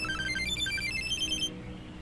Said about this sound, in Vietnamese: tôi nghe điện thoại cái đã